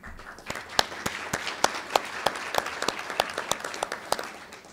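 Audience applause at a county and college press conference on the lithium industry, a steady patter of many hands with sharp individual claps standing out, fairly close and without talk over it.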